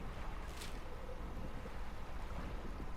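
Inside the fishing game DREDGE, a boat engine rumbles low and steady while wind and waves hiss around it in a continuous stormy wash, with no voices.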